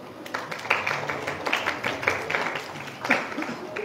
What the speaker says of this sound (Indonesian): Tepuk tangan dulu buat kasih.